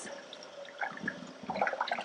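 Broccoli rinsed under a running kitchen tap in the sink, a soft steady stream of water with light splashing and spattering, fairly quiet and without talk.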